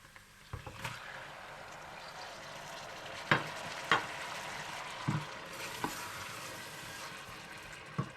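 Ginger, garlic and tomatoes fry quietly in a pan as a soft, steady sizzle, broken by a few sharp clinks and scrapes from stirring.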